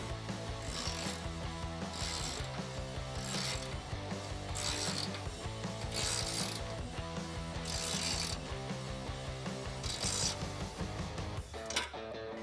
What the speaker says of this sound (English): And then we can tighten these up using a 10 millimeter socket and 10 millimeter